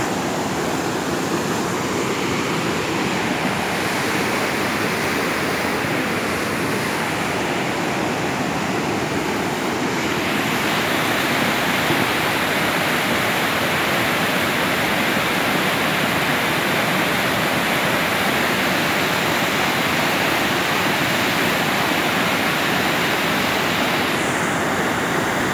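A river rushes up close, producing a loud, continuous broadband roar of churning water that stays steady and unbroken throughout, with no speech over it.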